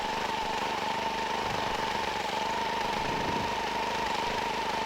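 A paramotor engine idles at low RPM, a steady, close, buzzing drone with a constant pitch and slight vibration throughout, with no talk.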